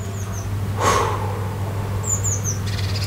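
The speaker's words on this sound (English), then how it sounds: "Only hear the birds." Birds chirp outdoors in a calm setting, with a few faint, high, brief calls scattered over steady background noise and a short louder rustle.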